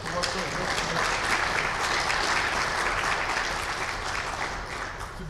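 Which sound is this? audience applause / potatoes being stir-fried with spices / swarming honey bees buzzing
audience applause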